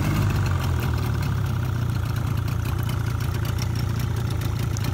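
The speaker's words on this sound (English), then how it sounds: "this is an electric start and pull start motor, long shaft, and start her up for you" A 1987 Mariner 30 hp long-shaft outboard motor idling, a steady, loud, low rumbling drone with a fine rapid knocking pulse that stays even throughout.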